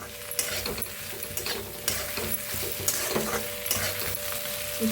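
Okra (bhindi) frying in a pan with green chilli and garlic gives a continuous dense sizzle, with irregular scraping and tapping from a spatula stirring it, close and without talk.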